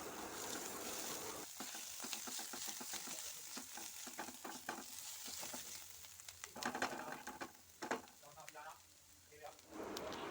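Spices sauté in a pan for egg chowmein, a soft steady sizzle broken by scraping and stirring strokes of a spatula, moderately close and fairly quiet.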